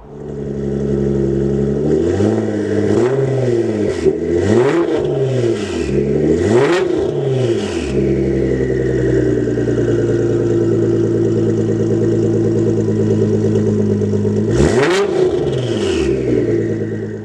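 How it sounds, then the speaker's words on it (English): A modified 800+ HP twin-turbo Nissan GT-R with a titanium catback Boost Logic exhaust and 4-inch tips revs repeatedly in sharp bursts, settles into a steady rumble, then gives one more hard rev near the end. "a titanium catback Boost Logic exhaust with 4-inch tips"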